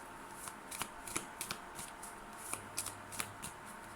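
Oracle cards are shuffled by hand for a cross spread, giving a quiet, close series of crisp riffling flicks and taps in irregular bursts.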